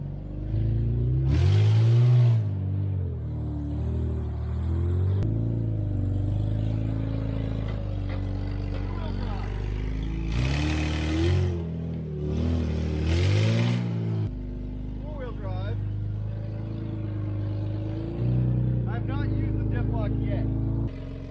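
Vehicle engine revving hard in repeated surges while the driver tries to get it stuck off-road, switching between two-wheel and four-wheel drive, with engine drone throughout and talk in the background.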